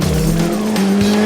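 A Mitsubishi Lancer Evolution X drifting through a corner on a race circuit, its tires squealing loudly and continuously over the engine's steady drone.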